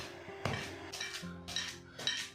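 Metal pestle pounding a herbal mixture in a mortar, later with rose petals added, four sharp rhythmic strikes about half a second apart with ringing metallic clatter, close and alone.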